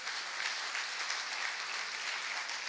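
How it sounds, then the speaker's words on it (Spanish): A church congregation at a family service claps in sustained, dense applause, a steady wash of hands with no speech over it. "Dale un aplauso al Señor, por favor."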